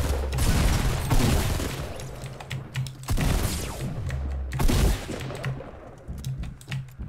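Burst assault rifle gunfire in a Fortnite match, loud rapid volleys of shots repeating throughout with brief gaps, dense and close.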